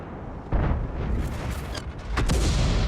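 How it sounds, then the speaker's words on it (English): Artillery salvo fired from a GW E100 self-propelled gun in World of Tanks: two heavy booming blasts, about a second and a half apart, each with a rumbling tail, loud and close, with no talk. "Here comes a second salvo."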